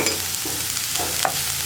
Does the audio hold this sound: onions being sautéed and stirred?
yes